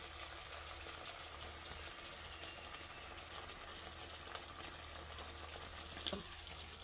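Fried pointed gourd pieces go one by one into a pan of sugared spice paste, and the paste sizzles with a steady, close, even hiss and crackle throughout, with no voice.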